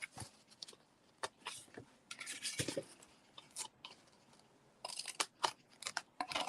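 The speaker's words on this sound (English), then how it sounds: "And now I need my ribbon scissors." Ribbon scissors snip and rustle through ribbon during a reindeer craft session, short sharp cuts in irregular clusters, close and fairly quiet, with pauses between bursts.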